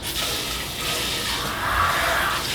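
Steady rushing water pours over a vintage lamp shade being rinsed after a dish detergent wash outdoors, a continuous close hiss-like splash throughout.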